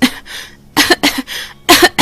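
A woman character in a Hindi cartoon coughing badly: loud, harsh coughs in repeated clusters, close and alone, with short pauses between the bursts.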